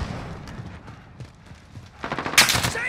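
Gunfire in a Modern Warfare video game match: scattered shots early on, then a louder burst of rapid automatic fire near the end.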